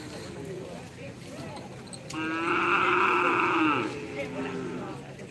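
Javanese cattle at a karapan sapi bull race give a loud, drawn-out, strongly tonal moo-like call lasting under two seconds midway through, over crowd chatter and general background noise.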